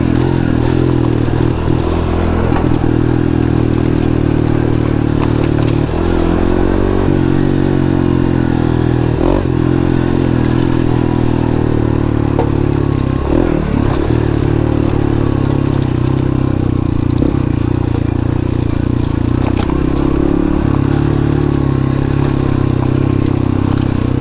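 A Honda Trail 125 motorcycle with a Yoshimura aftermarket exhaust runs continuously at part throttle with a deep, steady exhaust drone, rising and falling slightly, with occasional clatter and scraping.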